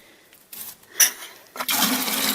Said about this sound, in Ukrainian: Ого, хорошо водичка течет.